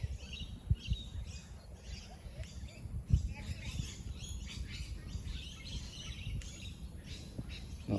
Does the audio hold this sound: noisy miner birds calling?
yes